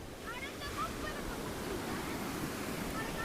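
Ocean waves break at Kappil beach in a continuous, moderately soft wash of surf with some wind buffeting the microphone, and faint voices sit in the background.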